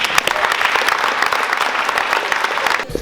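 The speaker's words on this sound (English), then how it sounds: "So give yourselves a great round of applause." Students applaud loudly and continuously at a basketball court dedication ceremony at Westinghouse High School in Brooklyn, a dense wash of clapping with a faint crowd murmur underneath.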